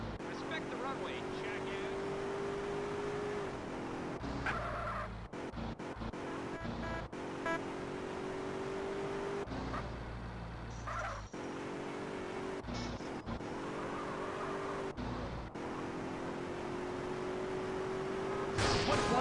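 A car drives in GTA San Andreas with a steady engine hum that swells and shifts as it moves, mixed under hip-hop radio music and someone talking.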